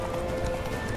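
A horse gallops in The Witcher 3 video game during a chase across the fields. The hoofbeats form a continuous, close clip-clop over a dense background of game sound, and no pause breaks the stride.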